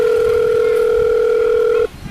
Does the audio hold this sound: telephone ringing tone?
yes